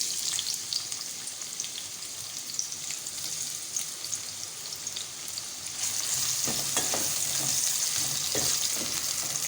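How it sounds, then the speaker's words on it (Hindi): Onion frying in hot oil in a kadai while preparing mixed daal, a steady close sizzle throughout that grows louder and denser in the last few seconds with stirring clatter. "प्याज को हमें इतना फ्राई करना है कि इसमें एक अच्छा सा गोल्डन कलर आ जाए।"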